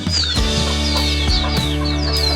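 Hens kept with their chicks on a small homestead farm cluck loudly and close by, in a quick run of repeated throaty calls with no talk.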